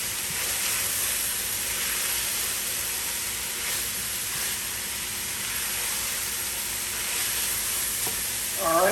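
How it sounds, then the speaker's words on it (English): Chopped vegetables for Louisiana dirty rice sizzle steadily in a hot pan, a dense, even frying hiss that carries on unbroken, with a faint clink of a utensil near the end. "let that sweat a little bit and begin to cook the veggies"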